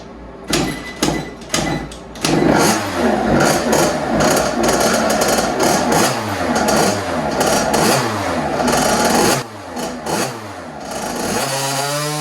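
A 2007 KTM 50SX two-stroke engine screams through repeated rising revs on a dyno, loud and close, each run climbing in pitch before dropping back, with brief gaps between pulls.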